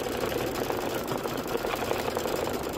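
Sewing machine stitching over a Kimberbell trapunto pineapple pouch, a steady rapid motor whir with fine repeating needle pulses, close and continuous for the whole short stretch.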